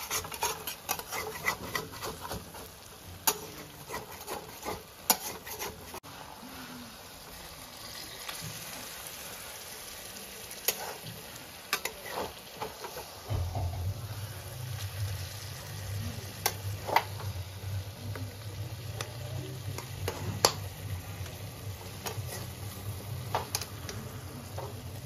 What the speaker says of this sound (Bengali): আমি ওই জন্য খুন্তি দিয়ে অল্প অল্প করে উঠিয়ে দিচ্ছি